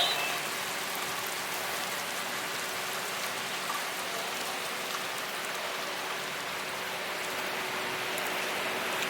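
Steady, dense rain falls through a thunderstorm at an amusement park, Canada's Wonderland, a continuous broadband hiss of drops on surfaces holding level for the whole stretch, with no talk over it.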